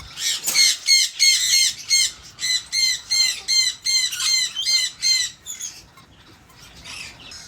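Lory parrots from a breeding pair squawk loudly at close range, a rapid series of harsh, evenly spaced screeches over about five seconds that then fade into quieter calls, with no one talking.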